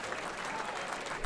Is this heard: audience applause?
yes